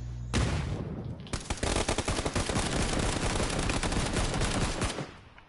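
Rapid automatic gunfire in the video game PUBG, a dense loud burst of shots that starts with a single crack, then runs continuously for several seconds before cutting off.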